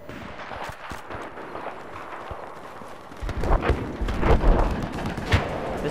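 Video game mortar fire, a run of heavy thuds and booms that builds from a faint rumble into a loud, dense barrage over the second half.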